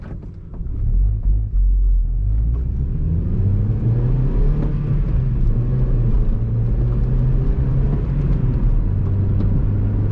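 A 2010 Honda Civic LX-S with a manual gearbox accelerates hard, its engine rumbling and climbing in pitch through the revs with gear changes and a slightly slipped clutch, heard close from inside the car.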